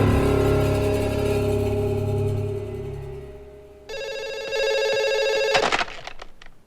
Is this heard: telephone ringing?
yes